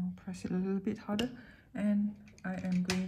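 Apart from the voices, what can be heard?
No everyday noises stand out.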